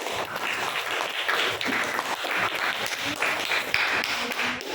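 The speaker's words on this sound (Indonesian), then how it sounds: "kita berikan aplaus dulu untuk kelompok 2" A classroom group of students gives a round of applause for a presenting group, with steady, moderately loud clapping from many hands lasting several seconds.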